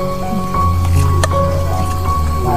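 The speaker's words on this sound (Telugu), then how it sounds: "రైస్ యాడ్ చేసుకుందాం." Rice tipped into a large pot of boiling water during bulk cooking of food for donation, with a soft splash midway over a steady low burner rumble and hum.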